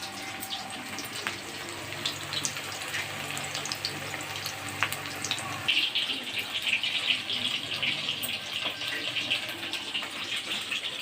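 Chicken pakora crackles and sizzles in hot oil in a home kitchen, a steady close bubbling hiss that brightens and intensifies midway, with no talking.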